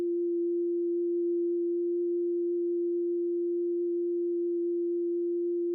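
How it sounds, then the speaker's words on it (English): A single pure, steady low tone, the isolated first harmonic of a sung "ee" vowel, hums without change, smooth and hollow like a sustained "ooh," with nothing else heard. "this first harmonic, even though I was singing an E vowel, it will very much sound like an ooh"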